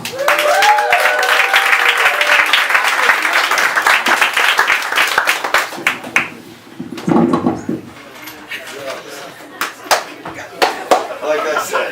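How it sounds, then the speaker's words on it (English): A comedy club audience applauds and claps for a comedian, a dense burst of clapping at first that thins into scattered hand claps, with some voices briefly over it. "So let's give a great round of applause for Biker Duke."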